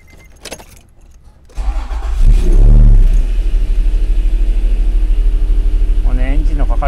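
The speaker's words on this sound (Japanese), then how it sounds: "ではちょっとエンジンかけてみましょう" A Honda NSX 3.0 with a six-speed swap is started after a jingle of keys: the starter whirs briefly, the engine catches with a loud rising rev, then settles into a steady close idle, with a brief voice near the end.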